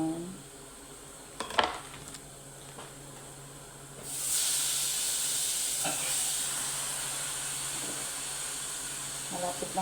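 Chicken fries in a pan, starting with quiet clinks of dishes and utensils before a strong, steady sizzling hiss rises and keeps going, with a voice speaking over parts of it.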